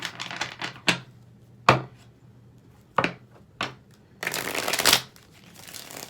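Tarot cards are shuffled in several sharp riffling bursts with short pauses between them, ending in a longer, louder riffle. The sound is close and clear, with no talking.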